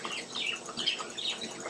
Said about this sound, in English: Sorry if you hear annoying birds in the background.